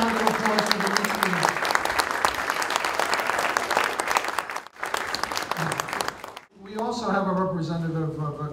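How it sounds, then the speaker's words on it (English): Loud, dense applause from a lecture audience fills the room, pausing briefly twice, while a voice speaks over the clapping toward the end. "Another round of applause for the listening"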